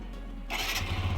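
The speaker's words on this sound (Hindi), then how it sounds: "बाइक को स्टार्ट कर लेते हैं, इंजन साउंड सुन लेते हैं, एग्जॉस्ट नोट सुन लेते हैं।" A TVS Apache motorcycle engine starts on the first try: a short crank, then the engine catches and settles into a low, steady idle, close by with no talking.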